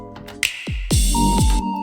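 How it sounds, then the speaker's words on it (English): A sharp finger-snap sample hits alongside deep, booming kick drum thumps that drop in pitch, a few punchy hits in quick succession. "And then I'll grab a snap sample"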